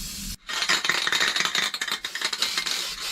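An aerosol can of dye spraying a classic car's interior headliner, a close hissing spray with uneven bursts and sputters as the can runs low, after a brief quiet moment at the start.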